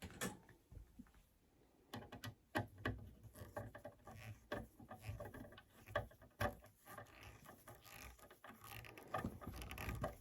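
A figure eight fastener is screwed down into a wooden frame, giving soft, irregular clicking and ratcheting with light tapping, faint and close, continuing through the whole stretch.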